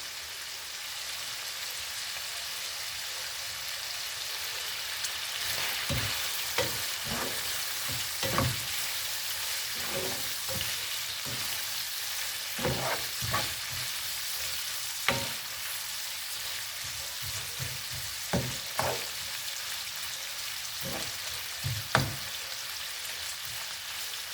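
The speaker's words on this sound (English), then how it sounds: "Keep cooking the bacon." Bacon frying in a pan, a continuous near sizzle broken by sharp spitting pops and crackles throughout, no voices.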